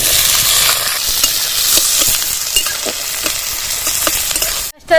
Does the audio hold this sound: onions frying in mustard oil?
yes